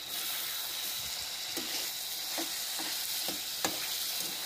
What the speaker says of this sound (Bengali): এখানেও আমি তরকারিটা বসিয়ে দিয়েছি, মাছের ঝোল করছি